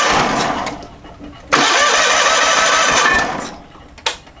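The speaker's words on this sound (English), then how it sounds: "It sounds like it's cranking good" A John Deere 318 lawn tractor's Onan engine cranks over under the starter with a fast rhythmic churning in two loud close bursts, without catching, ending with a short click.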